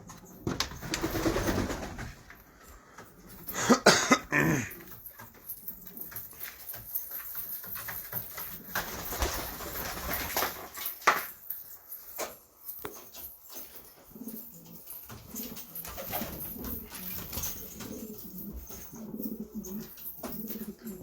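Pigeons brought over from Syria coo in low, repeated throaty calls through an indoor loft, with a louder flurry of activity early on and steady cooing continuing beneath background rustle.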